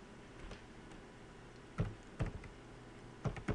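Typing on a computer keyboard, heard as scattered clusters of soft, close keystroke clicks with pauses between bursts, faint and without talk.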